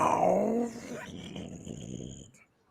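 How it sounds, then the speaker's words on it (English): A dog growl added as a sound effect, a loud close snarl that fades into a low rumbling growl before cutting off. "Had to add that extra growl in there."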